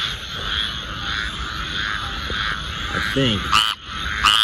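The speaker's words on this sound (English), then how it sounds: "I believe this is a squirrel tree frog calling over here." Squirrel tree frogs call outdoors in Georgia, a steady chorus of raspy croaks running throughout with a couple of louder nearby calls near the end, while someone speaks briefly.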